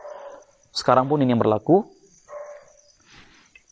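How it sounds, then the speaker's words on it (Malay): A dog gives a short whimpering yelp close by, followed by a brief bark-like cry, while someone speaks in Malay around it. "anjing gonggong"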